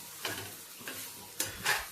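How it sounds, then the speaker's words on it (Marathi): Thecha chili paste being stir-fried in a pan, a soft continuous sizzle broken by four scraping stirs of a spatula at a steady rhythm, close and fairly quiet with no voices. "2-5 मिनिटं परतवून घेतलेला आहे आपण ठेचा"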